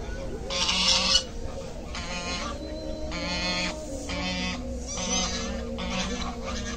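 Geese at Al Qudra lake in Dubai honk and cluck in repeated loud bursts, several birds calling close by in overlapping bouts against steady outdoor background noise.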